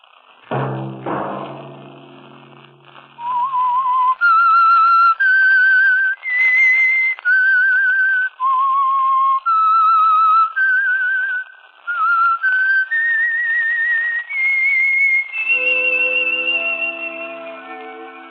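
The whistled signal tune of The Whistler radio mystery program: a thump, then a lone whistler carries a slow, eerie melody of sustained notes, clear and close, ending with a brief musical chord.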